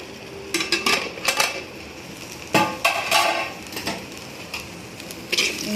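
Lid lifted off a cooking pot of okra stir-fry, giving a run of sharp metallic clanks and clinks in close, scattered bursts with quiet gaps between and no voices.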